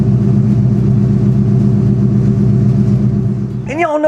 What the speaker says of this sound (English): nothing sounds like a Mustang, especially a 99 Cobra with Bassani exhaust